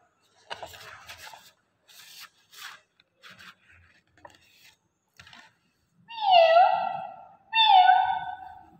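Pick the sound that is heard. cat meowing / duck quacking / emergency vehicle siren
cat meowing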